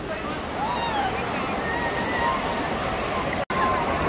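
River water rushes and sloshes steadily near a zipline in Old Manali where riders are dipped into the river, a broad continuous wash with faint distant voices and whistle-like cries mixed in.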